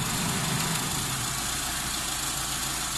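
A Mitsubishi 4G13 engine with a piston-type carburetor idles steadily after the idle mixture screw is adjusted, giving a constant close, even mechanical hum with no change in speed.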